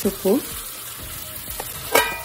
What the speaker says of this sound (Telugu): పచ్చిమిర్చి కరివేపాకు, ఫ్రోజన్ చింత చిగురు వేసేసేయాలి